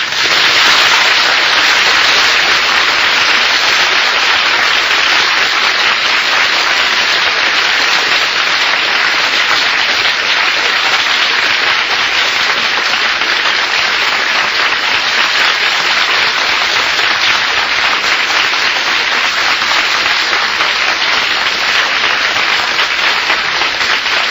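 A studio audience applauds steadily, a dense, loud wash of clapping that holds at an even level for the whole stretch with no voices on top.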